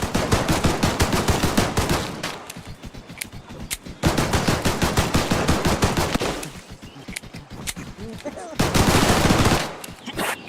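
Rapid bursts of video game gunfire, loud and close, with repeated volleys and machine-gun-like rattles separated by brief lulls, with some faint talk mixed in.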